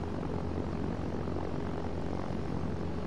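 Propeller airplane engine in a flight simulator game, a steady droning hum with a low rumble held at even loudness throughout, with no voices over it.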